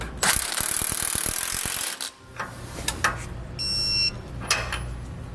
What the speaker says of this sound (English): Now we'll get these tightened down and torqued.